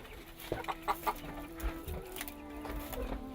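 Chickens clucking nearby, a few short rhythmic clucks over low background noise, fairly quiet.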